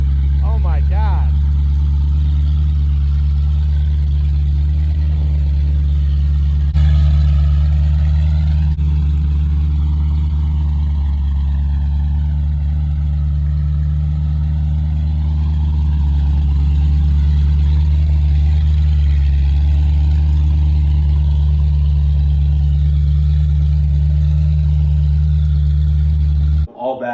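A Ford Mustang GT with a blown engine and its muffler deleted runs steadily and loudly throughout, a deep low rumble with strong harmonics and a few small rises in revs.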